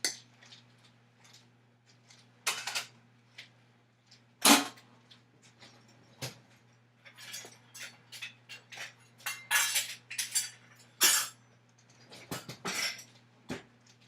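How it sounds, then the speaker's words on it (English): A spoon stirs meatballs in BBQ sauce in a pot, giving scattered light clinks and scrapes against the pan with quiet gaps between, over a steady low hum. "stirring really gently so that I don't break any of them"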